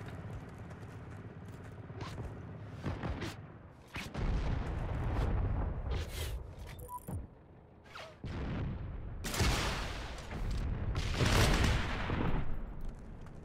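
Explosions and gunfire fill a chaotic online battle in the shooter Heroes and Generals, with several loud, booming blasts and bursts of shots over a steady rumble, one sharp detonation standing out among the din.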